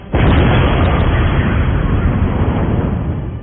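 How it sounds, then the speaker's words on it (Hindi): Russian drone bombing of a Ukrainian military base, one very loud, close explosion that bursts at once into a dense, sustained roar rumbling on for several seconds with no other sound. "रूस के इस हमले के बाद वहां तेज धमाका हुआ"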